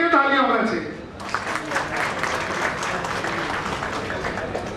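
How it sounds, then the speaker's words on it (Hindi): Conference audience at a regional NGO forum applauding after a voice trails off, a broad wash of many hands clapping, steady and moderately distant, continuing to the end. "तो आप सबके लिए तालियां होना चाहिए।"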